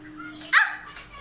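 A child imitates a dog, giving a single short, sharp bark-like yelp, close and fairly loud, with a fainter follow-up sound just after.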